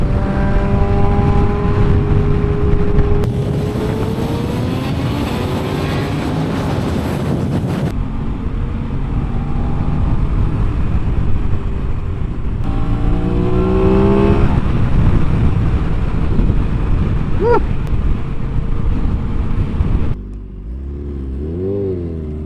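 Motorcycle ride with a windscreen fitted: a steady, loud engine drone mixed with wind rush runs throughout, with rising and falling engine pitch as the rider accelerates and shifts, easing off near the end.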